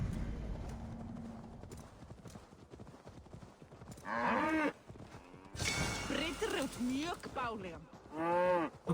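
Cattle in a cow pasture in Assassin's Creed Valhalla, several loud close moos with hoof clops, following a stretch of rustling ambience.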